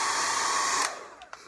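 Up close, a hair dryer blows with a loud, steady broadband whoosh and a faint whine, then cuts off abruptly, leaving a few soft clicks and handling noises in the quiet.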